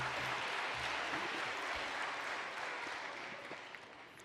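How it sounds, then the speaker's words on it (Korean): Applause from a church congregation, a broad wash of clapping that fades gradually toward the end, fairly faint and without talk over it. "동의하시는 분만 박수."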